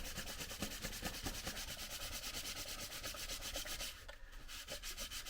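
A cloth rubs excess wax off a leather knife sheath in steady, fast, continuous strokes, close and fairly loud, with no one talking.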